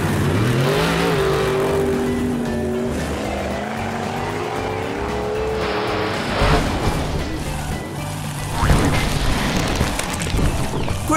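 An animated monster truck dressed as a firefighter revs its engine loudly, the pitch rising and falling as it takes a jump, with skidding and crashing noises near the end.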